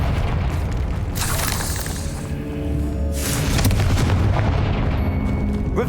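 Confringo fire spell blasts in Hogwarts Legacy, played on PC: two heavy booming bursts, the second longer and rolling, over a constant rumbling game soundscape.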